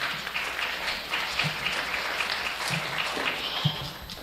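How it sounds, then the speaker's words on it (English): Crowd applause for junior exhibitors at a county fair goat show, a steady moderate clapping from an audience that continues throughout with faint scattered voices underneath. "let's give these kids another big round of applause"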